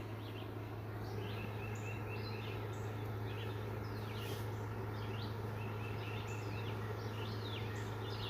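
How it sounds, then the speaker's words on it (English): Several birds chirp and trill in short bursts at sunrise over a steady low hum, scattered calls at moderate distance throughout. "Listen to those birds, man. They are happy today."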